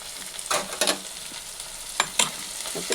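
Spinach being stirred in a frying pan with onion and green chilli, a few distinct scraping stir strokes over a quiet, low sizzle.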